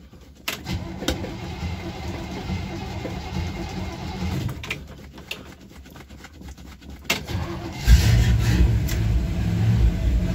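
A 1962 Chevy Impala two-door with a 283 V8 cranks through several labored tries with short pauses, then catches late and settles into a loud, rough, throbbing idle close by.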